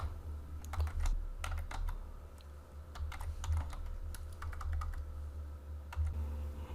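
Steady typing on a computer keyboard while writing a sentence in writing software, with irregular runs of close, crisp key clicks over a low constant hum and no voices.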